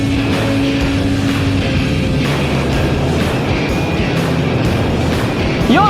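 A homemade flying bicycle with propellers running at takeoff, giving a loud continuous motor drone with a steady mechanical hum and whine that stays level throughout, without speech.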